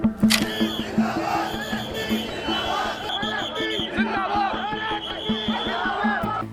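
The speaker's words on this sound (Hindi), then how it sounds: "जय फिलिस्तीन और धार्मिक नारे लग रहे हैं।" A crowd of students at a university campus Diwali event chanting slogans, a dense, loud wash of many voices with shouts and chatter rising throughout, and a sharp click near the start.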